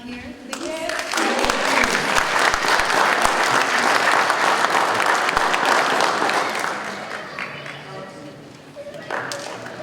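Audience at a graduation ceremony applauding graduates, a loud dense burst of many people clapping that swells, holds, then tapers off, with a voice speaking briefly at the start and end.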